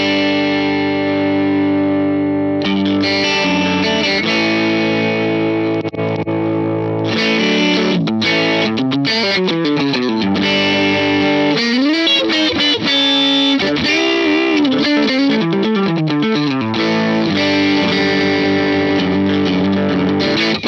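Electric guitar through a compressor pedal into a sparkly AC30-style amp tone, compressed and squashed, plays sustained chords, then moves into quicker picked and bending phrases, loud and continuous with no talking.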